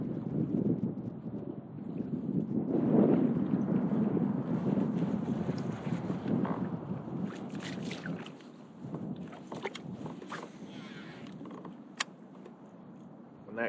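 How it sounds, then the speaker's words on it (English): Wind gusting across a Michigan lake in spring, a broad rushing buffet with microphone rumble, strong at first and easing later, with faint knocks and creaks from a fishing boat. "When those clouds roll in and that wind keeps up"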